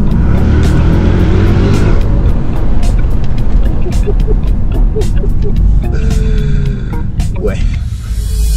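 A powerful 650-horsepower V8 car engine roars loudly and continuously, revving under heavy load while people speak over it.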